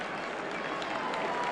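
A big football stadium crowd at Everton roars and applauds during a European Cup Winners' Cup semi-final second leg against Bayern Munich, a dense, steady wall of noise that holds throughout.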